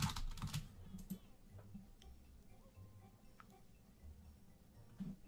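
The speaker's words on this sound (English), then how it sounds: "so his friend started typing and then he stopped typing." Keyboard typing during Toontown Rewritten play gives quiet, irregular clicks and ticks in short bursts against low background hum, with no talk.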